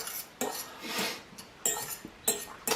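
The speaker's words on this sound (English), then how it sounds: "Add some milk. Fair bit, give it a stir" A utensil clinks and scrapes against a bowl while milk is stirred into a raw Italian-style meatball mixture, in several short bursts separated by brief pauses. Close by, with no talking.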